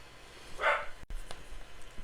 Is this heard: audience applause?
no